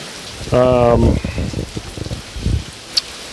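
Steady rain patters in the background of an outdoor meeting, a constant wash of noise running under people talking.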